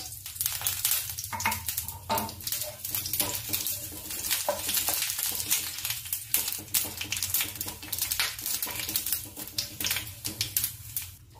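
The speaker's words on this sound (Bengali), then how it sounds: "এঁচোড়টা নামিয়ে আমি আবার কড়াতে তেল দিয়ে দিয়েছি। সোমবারের জন্য দিয়ে দিলাম গোটা জিরে, গরম মশলা, শুকনো লঙ্কা, তেজপাতা।" Whole cumin, garam masala, dried chilli and bay leaf sizzling in hot oil in a kadai, a crackling, spitting fry with sharp pops throughout.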